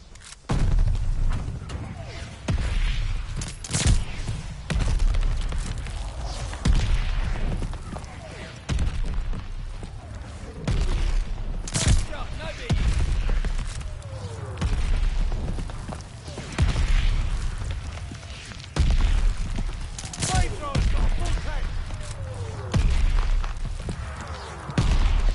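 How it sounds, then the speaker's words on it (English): Mortar fire explosions in a military strategy video game, a series of sharp booms spaced a few seconds apart over rumbling low background noise, with game voice lines occasionally heard between blasts. "Friendly mortar fire coming."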